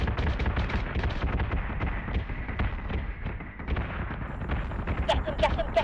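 Ship guns firing in the space combat game Battlestar Galactica Deadlock, a steady barrage of heavy booming shots and rumbling impacts, moderately loud, with bursts of higher crackle near the end.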